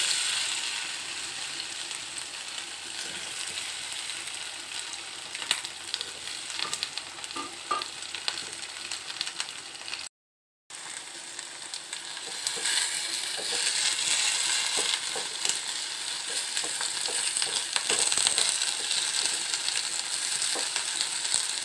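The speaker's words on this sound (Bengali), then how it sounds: "কড়াইয়ের তেলটা গরম হয়ে গেছে, এবার ভেন্ডিগুলো এক এক করে দিয়ে হালকা ফ্রাই করে নেব।" Okra (bhindi) fries in hot oil in a kadai, giving a dense, continuous sizzle with scattered crackles and utensil scrapes, briefly cut off near the middle and then growing a little louder.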